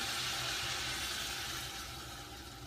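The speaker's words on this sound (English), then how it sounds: "going to pour a little bit of water in, a little bit at a time" Very hot tap water pours steadily into a stew pan of elephant-garlic and potato stew, a continuous hissing splash that fades slightly toward the end.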